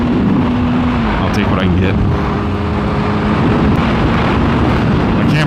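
A Yamaha R6 motorcycle cruising down a highway, its steady engine drone blended with heavy wind rush, continuous and close, with someone talking over it.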